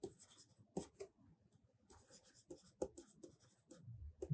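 Pen or marker writing on a board during a mathematics lecture on permutations, a quiet series of short scratchy strokes in irregular bursts with brief pauses between words.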